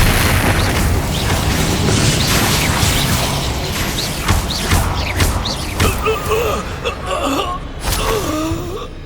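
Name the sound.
Expelliarmus disarming spell cast in Hogwarts Legacy video game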